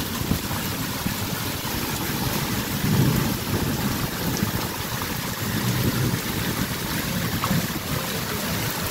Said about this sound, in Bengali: দেখেন পাহাড়ের ভিতর থেকে সিঁড়ি দিয়ে কত পানি নামতে, অনেক বৃষ্টি।